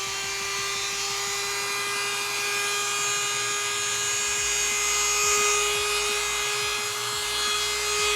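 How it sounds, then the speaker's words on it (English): A Dremel rotary tool with a sanding bit grinds at a Hangar 9 Extra 330SC model airplane, giving a steady, close, high-pitched motor whine with scratchy sanding texture throughout. "I got my Dremel tool with a sanding thing"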